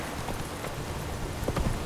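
Roach, the horse in The Witcher 3, galloping with a faint rhythmic clip-clop of hooves at a distance under a soft ambient bed, the beats growing a little more distinct toward the end.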